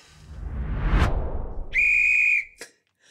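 A sharp whistle is blown once, a short loud steady shrill tone held for about a second, preceded by a rising whoosh of noise and followed by a brief chirp, with no talking.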